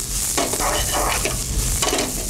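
Shallots frying in a pan for a coconut-milk fish curry, a steady close sizzle with scraping stirs throughout, no talk.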